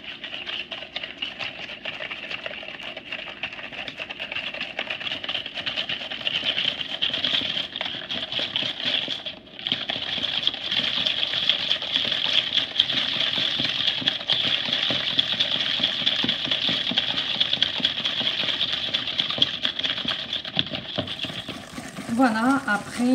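An electric hand mixer whirs steadily through coconut cake batter with an egg, a continuous high-pitched motor hum that falters briefly midway, with a cook speaking French over it.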